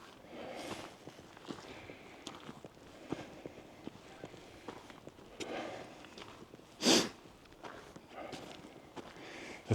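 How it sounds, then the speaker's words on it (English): A short, sharp sniffle stands out on a quiet snowy morning trail walk in Montana, between soft crunching footsteps on snow that continue steadily throughout. "The sniffle is a default reaction, and I have to consciously avoid it."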